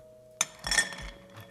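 Ice drops into an old fashioned cocktail with a sudden bright clatter, followed by close glassy clinks and tinkling as the drink is stirred.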